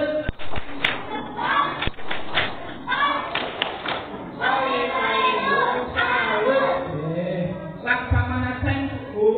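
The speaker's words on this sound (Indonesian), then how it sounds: "Tepuk salut." Elementary school pupils perform the rhythmic tepuk salut clapping routine in a classroom, sharp patterned claps and thumps followed by children chanting together loudly.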